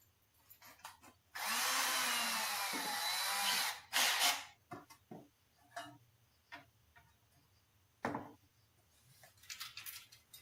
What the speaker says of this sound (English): I think we just need a tiny drill bit